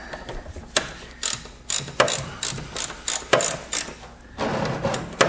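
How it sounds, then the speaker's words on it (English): A part being unscrewed with a ratchet on a Honda GL1800 Gold Wing motorcycle during an oil change, heard as a series of close, sharp ratcheting clicks and clacks in irregular bursts, without talk. "Once you get it loose, you just simply unscrew it."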